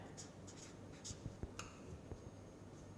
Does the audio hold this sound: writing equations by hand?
yes